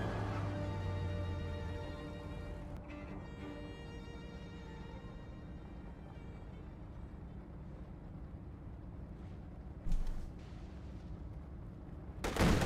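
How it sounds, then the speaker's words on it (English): Distant artillery barrage from B4 howitzers in a Company of Heroes 2 match, heard as a low, continuous rumble of shelling with a few sharper bursts near the end. "Is this another B4 barrage?"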